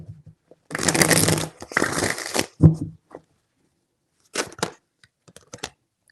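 Tarot cards shuffled by hand in two long, dense riffling bursts, then a sharp snap and scattered lighter card flicks and taps, close and fairly loud without any voices.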